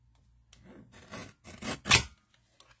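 Scissors or a blade cutting through cardstock while trimming a pop-up card, a few close rasping strokes building to one louder snip near the end, with no talking.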